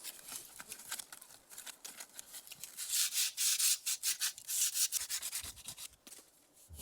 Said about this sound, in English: And need to give it a quick sand.